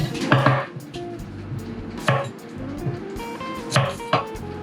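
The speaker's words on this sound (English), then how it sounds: "I'm missing my onions. Should I have to cut this or the small one?" A knife cuts a small onion on a cutting board, giving a few sharp, separate chops spaced unevenly over several seconds, with quieter kitchen handling sounds between strikes.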